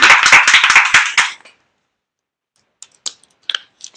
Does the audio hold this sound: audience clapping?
yes